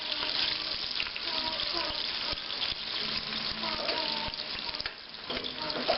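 Tortillas frying in a pan over medium-high heat on a stove for refried beans, a steady close hiss and crackle of oil running continuously with no break.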